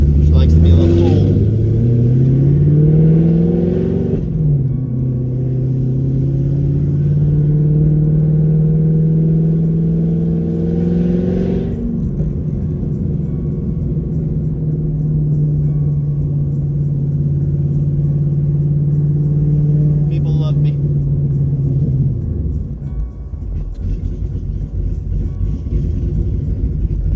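A Camaro V8 with an aftermarket cam idles and revs with a lumpy, choppy rhythm. The steady rumble rises and falls, with people talking over it.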